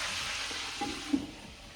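Salted rabbit pieces fry under a lid in a pan, giving a steady muffled hiss with a brief louder pop partway through, quiet and close, without any voices.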